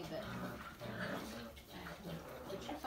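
Bullmastiff puppy litter crying and whimpering in the background at a dog breeder's, faint yelps under a person talking.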